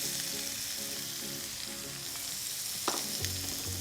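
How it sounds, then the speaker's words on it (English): Thinly sliced onion frying in oil in a pan, a steady close sizzle with a few brief stirring scrapes near the end and no voices. "We're going to add a little bit more oil to the pan and then we're going to cook our onion and garlic"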